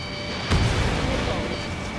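A missile strike destroys a hostile aircraft in the video game Ace Combat 7, a sudden heavy boom with a low rumble that decays over the following second and a half under steady engine-like background noise.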